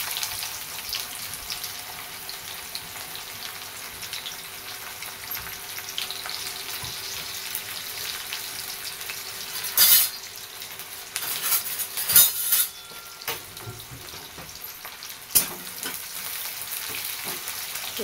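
Chopped onion fries in a pan with jeera, and a soft sizzle runs throughout. Stirring utensils scrape and clink against the pan in a few louder bursts near the end. No one speaks.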